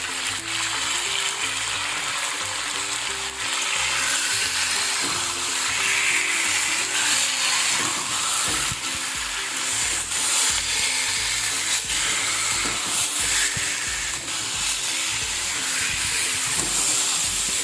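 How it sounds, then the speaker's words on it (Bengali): Cucumber stirred in a pan with salt and turmeric, giving a loud, steady sizzle and hiss with scraping spatula strokes throughout and no speech. "হলুদ আর লবণ দিয়ে একটু নেড়ে চেড়ে নিয়েছি।"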